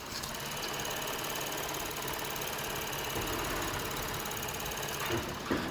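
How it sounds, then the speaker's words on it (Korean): A 15-year-old Lexus IS250 engine idles steadily and quietly, with a faint ticking clatter and belt whir holding an even level throughout, with no voices. "엔진 소음 들려드릴게요"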